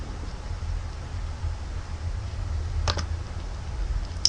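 A handful of quick keystrokes on a computer keyboard, faint and close, tapping out briefly over a steady low room hum.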